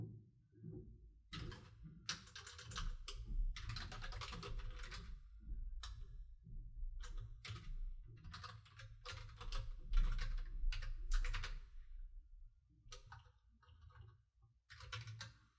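Fast typing on a computer keyboard while working in an Excel spreadsheet, a close, quiet flurry of clicking keystrokes in uneven bursts with short pauses, with no talking.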